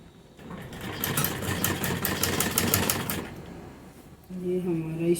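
A sewing machine stitches across a salwar mori hem folded half an inch and laid over foam, making a rapid, even run of needle pulses for about three seconds before stopping, followed by a nearby voice.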